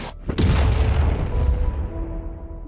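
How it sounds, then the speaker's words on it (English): A huge boom as a reactor melts down into a small nuclear explosion in a sci-fi tabletop RPG scene, a sharp blast followed by a long rumbling roar that slowly decays. "there is an enormous explosion from behind you as the reactor on Violet melts down completely"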